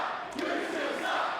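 A wrestling crowd in Adelaide lets out a short, distant chant, the voices blending into a muffled swell of many people.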